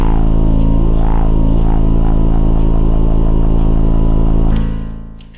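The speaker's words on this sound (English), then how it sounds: "Uses three oscillators, a wavetable, a square and a sub oscillator that's a sine wave" Synthesizer bass patch built from three oscillators (wavetable, square and sine sub) through two 24 dB low-pass filters, a sustained buzzy drone with sweeping filter movement that holds loud and steady, then fades out near the end.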